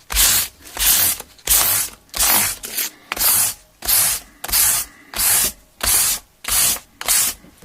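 A guitar body is hand sanded and polished in rhythmic back-and-forth strokes, about ten loud, even rubs in steady succession with brief pauses between them.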